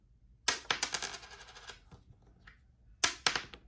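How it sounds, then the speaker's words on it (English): A 1978 copper penny is flipped and rings twice: each strike gives a bright, high metallic ping followed by a short fluttering rattle as the coin settles. The two pings are close and clear, with no talking. "You can clearly hear the copper pinging."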